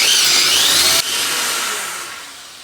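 A power drill with its largest bit whines at high speed drilling a stripped bicycle quill stem bolt, then drops abruptly and winds down as the motor slows, close by.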